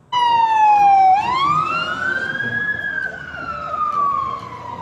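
A toy fire truck's electronic siren wails loud and close, its pitch sweeping down, then climbing and slowly falling again in a steady synthetic tone with no talking.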